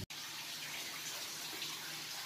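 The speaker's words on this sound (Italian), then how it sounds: "Vi faccio vedere la cascata naturale che viene." Water from a spring spilling as a natural waterfall inside an old mine, a faint continuous broadband rush and splash with a steady hiss and no voices.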